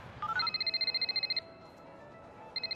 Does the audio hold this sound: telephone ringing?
yes